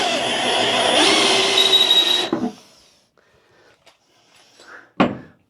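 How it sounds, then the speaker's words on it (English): A power drill bores for about two seconds in a whining, steady run while working on a 1966 Chevrolet C10, then stops abruptly, followed by faint handling noises and a brief sharp clunk. "the drill bit was jumping all over the place"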